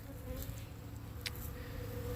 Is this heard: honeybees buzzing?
yes